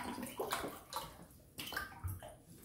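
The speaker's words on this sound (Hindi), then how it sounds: "हाफ के जी चावल के लिए तकरीबन ये चार गिलास पानी जाएगा" Water poured from a glass into a cooking pot of mutton pulao, about four glassfuls for half a kilo of rice, giving several short splashing gushes in a close indoor kitchen with no talking.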